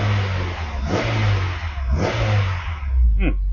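Revs from a 1999 Honda S2000 2.0 in normal condition rise and fall up close, two strong blips of the throttle over a steady idle, ending with a quick sharp rev.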